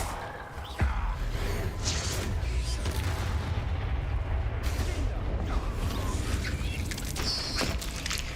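Fiery Confringo spell blasts in Hogwarts Legacy, a dense roaring wash of magical explosions and whooshes with a sharp crack near the start, steady and loud throughout with no talking.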